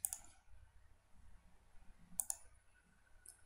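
Sharp mouse clicks and keyboard taps during a Ctrl C, Ctrl V shortcut at a computer, a few quick faint clusters with quiet room tone between.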